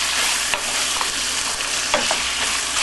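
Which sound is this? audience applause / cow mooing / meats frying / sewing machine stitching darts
meats frying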